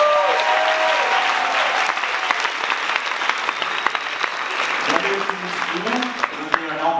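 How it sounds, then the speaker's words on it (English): A crowd at a student leadership conference applauds the chaperones, with steady, fairly loud clapping throughout; a voice speaks over the clapping toward the end. "So a round of applause for all of them"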